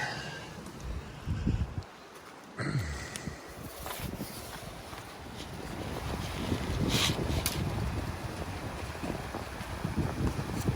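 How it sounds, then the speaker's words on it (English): Wind gusting through a mountain campsite on a trail in Linville Gorge, a steady, loud rush and buffeting against the microphone that swells and continues throughout. "Of course, the wind's kicking up"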